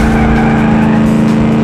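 A car in the driving game Automation roars with a loud, steady engine drone, continuous and close throughout as it takes a corner.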